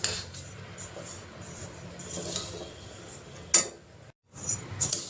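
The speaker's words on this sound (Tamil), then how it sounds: "இப்போ நல்லா வறுக்கிறேன் கொஞ்சம் அடிக்கடி கிண்டி கிண்டி விடணும்" Black urad dal is stirred with a spoon while it roasts in a pan, making soft, irregular scraping and light clinking against the metal, fairly quiet with a brief sharper clatter near the end.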